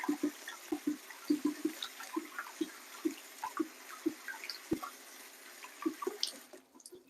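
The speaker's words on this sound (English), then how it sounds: "So I'm gonna drain off that water for that rice." Water drips and trickles unevenly as it drains off washed rice in a kitchen, close and quiet, with no voices.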